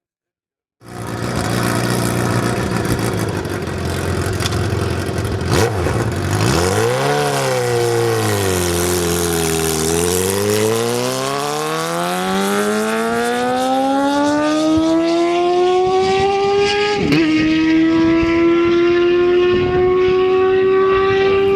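Suzuki GSX 750 motorcycle with a cable-operated butterfly valve on its exhaust headers, racing at Bonneville: a loud engine note climbs, dips briefly, then rises through long, sustained revs that pull steadily upward.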